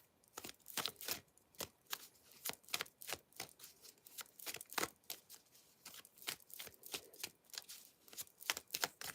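Quick rapid riffling and soft slaps of cards being shuffled, in bursts of crisp taps, close and fairly quiet with no talking.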